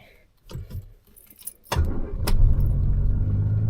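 Rover P4 car being started with choke: keys jangle, a brief cranking burst, then the engine catches and settles into a steady, close idle.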